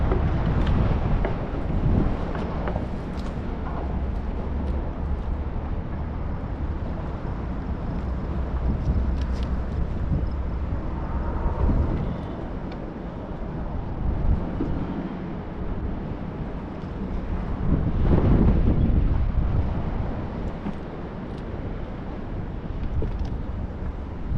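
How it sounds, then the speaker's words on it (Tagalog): Strong wind roars and buffets the microphone continuously on a shore at low tide, a loud low rumble that swells and gusts throughout, with almost no talking. "Lakas talaga ng hangin."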